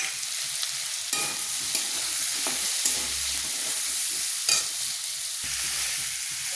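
Spices, turmeric and cumin powder, added to frying food in a pan, with a steady sizzle throughout and a few brief clinks and stirring scrapes over it.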